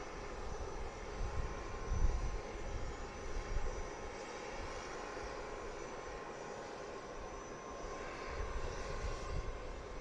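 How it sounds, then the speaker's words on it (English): United regional jet taxiing toward the runway at Harrisburg International Airport, a steady distant engine rumble and whine holding fairly faint and even throughout, with no voices. "we've got United 5525 headed back to Chicago, going up to the runway."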